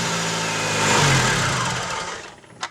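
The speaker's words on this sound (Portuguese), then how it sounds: "o cliente reclamando de um barulho aqui, ó, no motor de arranque dele. Um barulho assim metálico." The starter motor of a 2009 Chevrolet Agile 1.4 cranks the engine with a metallic grinding noise, a short loud whirring burst that fades out and ends in a sharp click.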